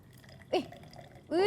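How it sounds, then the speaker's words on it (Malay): Hot water poured onto instant coffee in a cup, two short splashy pours with a rising gurgle, the second longer and louder, close and alone. "Lepas tu masukkan air panas dulu, Cikgu."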